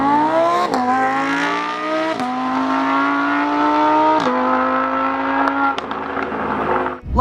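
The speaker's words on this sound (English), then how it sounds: "this is one of the best sounding cars of all time" A Lamborghini Huracan's high-revving engine, redlining at 8,500 rpm, screams loud and close, climbing in pitch through repeated rev sweeps with brief drops between them, no talk over it.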